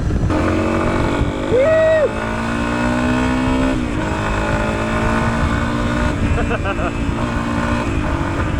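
A small-bore Yamaha XT250 dual sport motorcycle engine revs hard and steady, pitch climbing and dipping through gear changes, loud and close, with someone talking over it.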